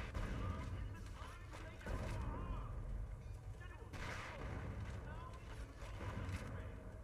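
Heavy blasts from a rocket launcher in the shooter game Project: Snowblind, with sharp booming shots at about 2 and 4 seconds over a dense, continuous game soundscape, and someone talking beneath.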